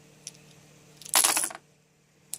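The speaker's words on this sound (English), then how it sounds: "So now you roll these 4 dice" Four dice rolled for a TOON tabletop role-playing character: a brief clattering rattle as they tumble and settle, with a couple of small clicks before and after.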